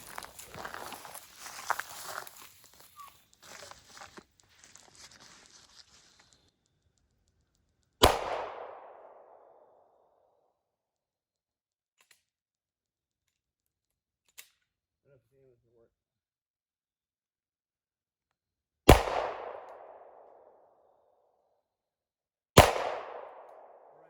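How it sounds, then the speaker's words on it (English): A Shadow Systems handgun fires three sharp, loud shots at 3 yards on a range, spaced several seconds apart, each followed by a brief ringing decay, after some quiet handling noise. "So you're just gonna start at 3 yards, just do a couple rounds."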